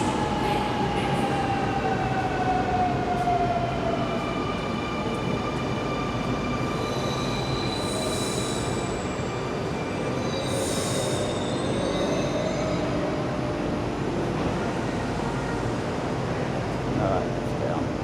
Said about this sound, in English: Redfern train coming in,